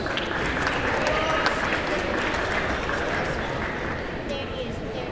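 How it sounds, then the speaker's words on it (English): Steady applause from a crowd at a senior recognition ceremony fills the whole stretch, dense and sustained without pause. "Big round of applause for Sean Munoz."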